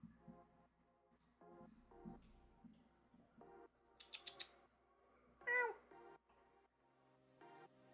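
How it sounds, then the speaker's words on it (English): A cat meows clearly once in the middle, close and fairly loud, over a quiet room with soft keyboard typing and clicking nearby. "Wanna give him a meow?"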